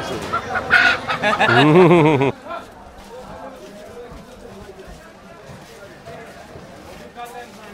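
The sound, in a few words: castrated rooster (khasi morog) clucking at market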